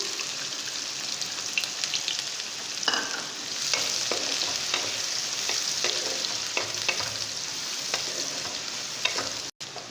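Cumin seeds and onions fry in hot cooking oil in a pan while making white chickpea chaat. A continuous close sizzle is broken by occasional clicks and scrapes of stirring.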